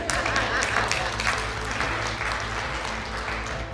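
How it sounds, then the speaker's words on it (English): A live audience at a motivational speaking event breaks into applause: a steady wash of clapping, moderately loud and even, with some background talk mixed in. "You guys could clap for that."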